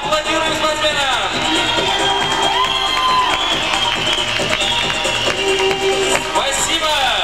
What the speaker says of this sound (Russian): Аплодируем спортсменам.